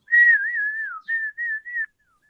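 A person whistles in imitation of a groundhog's warning call: one long wavering whistle followed by three short ones, clear and close with no other sound.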